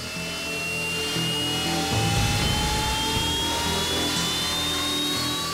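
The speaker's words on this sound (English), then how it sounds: "Engines are started and the aircraft line up for takeoff." Harrier GR9 jet engines spool up on a warship's deck, a loud rising whine climbing steadily in pitch over a broad roaring rush, close and continuous.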